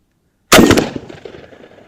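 A Beretta 1301 Mod 2 semi-automatic shotgun fires a single loud, close shot that cracks sharply and then rings out in a decaying echo.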